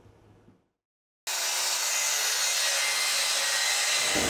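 Hand saw cutting wood in a small home workshop: a steady, loud rasping stroke runs continuously for about three seconds after a brief quiet gap, with faint background noise before it.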